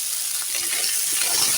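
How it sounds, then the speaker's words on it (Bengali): Flat beans and potatoes frying in a pan, a steady, close hiss of sizzling oil that holds evenly throughout with no voices. "এখন ওই প্যানে আমি সিম আর আলুটা হালকা করে ভেজে নেব"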